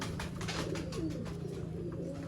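Soft, low pigeon coos repeating over a constant hum of background noise.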